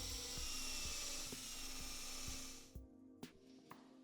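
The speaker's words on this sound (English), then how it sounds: "Then drill the other dowel pockets." A high-pitched power drill whines steadily for a few seconds drilling dowel pockets in a live-edge wooden coffee table, then stops, leaving a few sharp taps and knocks in the quiet.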